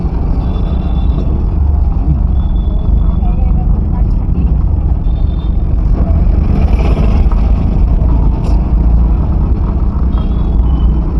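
A manual car rolls through traffic with a steady low engine drone and road rumble throughout, close and constant, while a voice talks over it.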